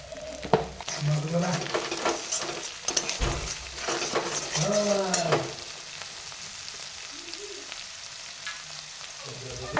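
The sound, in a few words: stirring and frying food in a pan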